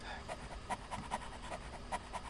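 A dog panting in the video game King's Quest VII, quick rhythmic breaths repeating about every fifth of a second, close and fairly soft over a faint background hum.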